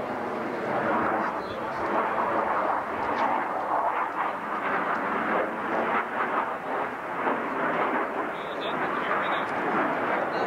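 An F-15 Eagle fighter jet roars at an air show, a loud, steady broadband engine rumble that fills the whole stretch without a break.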